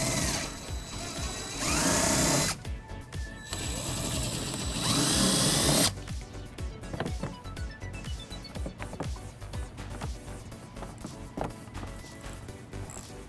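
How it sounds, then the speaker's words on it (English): A hand ratchet fitted with an 8mm socket backing bolts out of a 2018 BMW X5 bumper fascia, rapid clicking pawl bursts, some continuous and some in short strokes, close up, with no one speaking. "we're going to remove using an 8mm socket."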